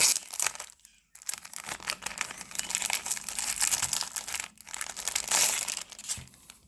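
A burgundy leather roll pencil case is unrolled up close, giving continuous crinkling and rustling handling noise with a brief pause and a couple of louder bursts.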